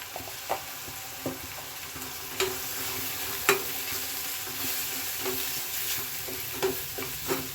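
Spices with garam masala and chilli powder frying in oil in a pan for a home-style egg masala, with a steady sizzle broken by irregular scrapes and clinks of stirring, close and moderately loud, with no voices.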